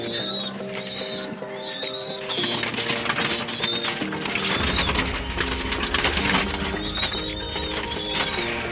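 Stock pigeons in a loft give soft cooing and chirping calls, with wing flaps and shuffling over a steady low hum and background rustle.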